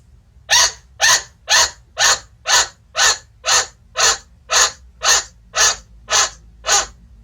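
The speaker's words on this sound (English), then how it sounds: "the alarm bark sounds a little bit like a squeaky toy mixed with an alarm clock" A chinchilla gives a rhythmic alarm bark, about thirteen sharp squeaky calls repeating evenly at roughly half-second intervals, close and loud against a quiet background.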